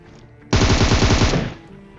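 Automatic gunfire in PUBG Mobile, a loud sustained burst of rapid shots lasting about one second, then fading quickly, with no talk over it.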